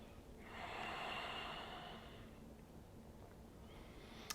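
A single deep, slow breath during yoga practice, a soft airy inhale-exhale rising and fading near the microphone over quiet room tone.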